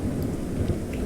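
Thunder from a storm during a tornado chase gives a brief, low, continuous rumble with no voices.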